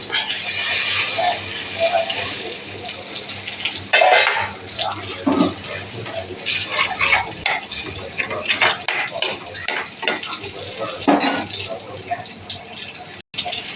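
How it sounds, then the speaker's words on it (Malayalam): Water goes into a cooking pan with a seasoning of chilli powder, turmeric and salt for a fish dish, a running splash amid clinks of utensils and pans, heard under a speaking voice. "അല്പം വെള്ളം ഒഴിച്ച് കൊടുക്കാം."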